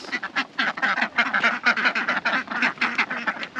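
Ducks quacking in stormy winter weather, a busy run of rapid overlapping quacks from several birds, close and fairly loud with no talk.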